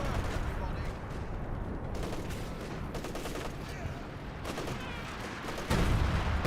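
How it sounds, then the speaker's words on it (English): An artillery barrage in the video game Company of Heroes 2 lands as dense, continuous battlefield rumble and rapid overlapping blasts and gunfire, with a heavier impact near the end. "Obersassen advances way forward into the artillery barrage"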